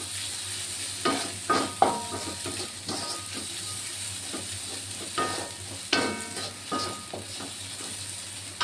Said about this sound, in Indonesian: Oseng-oseng bumbunya sampai mateng